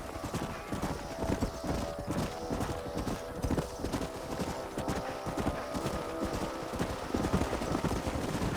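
Horse hooves clip-clop steadily on the ground in the Western video game Red Dead Redemption, a close, continuous rhythm of several horses' footfalls with no talk over it.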